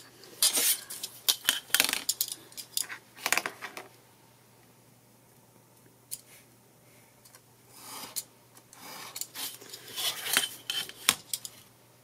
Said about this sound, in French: Je découpe les petits bouts.